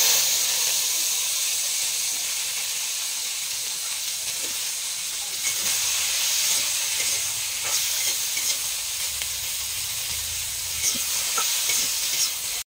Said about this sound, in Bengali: গরম তেলে ভেজে নেওয়া হচ্ছে ঢেঁড়স আর আলু